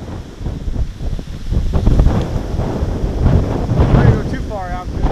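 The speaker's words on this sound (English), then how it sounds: "it's really windy" Strong wind batters the microphone with a constant heavy roar and gusts, rising and falling throughout, outdoors at Letchworth State Park while backpacking.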